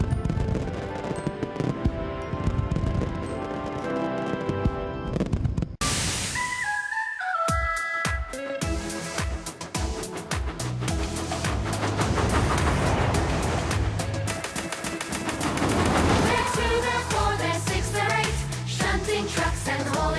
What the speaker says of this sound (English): We can watch the fireworks just as well from here.